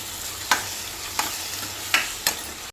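Onions and spices stirred in a frying pan for a South Indian egg gravy, a soft continuous sizzle with a few sharp scrapes of the spoon, close and steady.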